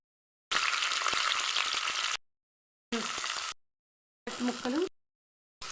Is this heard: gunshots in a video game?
no